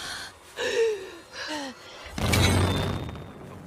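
A woman pants heavily in a tense film scene, giving two or three strained, voiced gasping breaths close up, followed by a sudden burst of rough noise.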